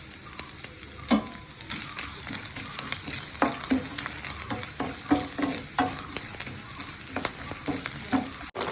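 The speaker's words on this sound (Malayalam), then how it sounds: "നെയ്യ് നമ്മൾ തേങ്ങ വറക്കുന്നുണ്ട് നെയ്യിൽ" Coconut pieces fry in ghee for a Kerala pradhaman, a steady crackling sizzle broken by frequent sharp spoon clicks and scrapes against the pan, close and moderately loud throughout.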